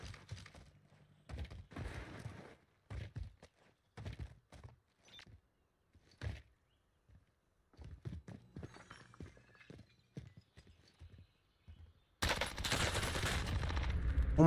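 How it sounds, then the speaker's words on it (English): Gunfire in Call of Duty: Warzone (Cold War era), with scattered sharp single shots and short bursts spread throughout, ending in a sustained loud stretch of continuous automatic fire. "There's gunshots over here."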